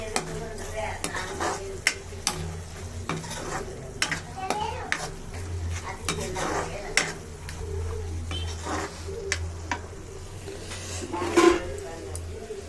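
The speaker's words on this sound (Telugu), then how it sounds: "మష్రూమ్స్ బాగా ఫ్రై అయ్యాక బటర్ వేసుకోండి. నేనైతే అమూల్ బటర్ వేస్తున్నాను." Mushrooms fry in Amul butter in a pan for fried rice, with a steady sizzle under repeated scraping stirs of a spatula against the metal, close and moderately loud throughout.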